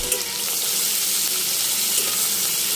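Green chilies and shrimp land in hot oil over chopped onion for a bitter gourd fry, giving a steady, close hiss of sizzling that runs evenly throughout with no talking.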